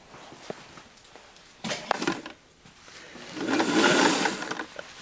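Sewing machine stitching a seam on jeans near chain stitching, short bursts of mechanical whirring separated by pauses and handling clicks, the longest run near the end, close and fairly quiet with no talk.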